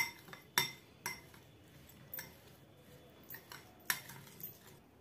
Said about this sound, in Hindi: अब इन सारी चीजों को हम अच्छी तरीके से मिक्स कर देंगे।